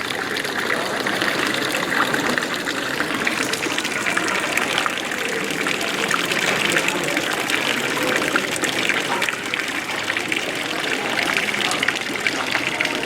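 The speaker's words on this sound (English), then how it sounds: "A little bit of water dribbles out here for dogs and other critters" Water dribbles from a street fountain in Lucerne, trickling and splashing continuously, a steady hissy babble that holds for the whole stretch with no pauses.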